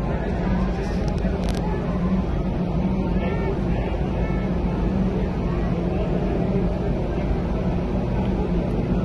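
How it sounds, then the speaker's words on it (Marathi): Steady droning engine of a fishing boat at sea off Mumbai, a constant loud rumble with wind and water wash that runs unbroken, with faint voices in the background. "मच्छी बोट को ला रहा है"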